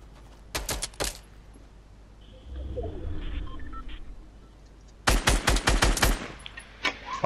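Shotgun blasts in the Fortnite video game come as a loud burst of several sharp reports near the start, then a quieter stretch before another rapid volley of close, punchy shots near the end.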